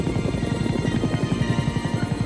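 Military transport helicopter carrying infantry, its rotor beating in a steady, fast low thump that runs continuously and fairly loud throughout, with engine whine layered above and no voices.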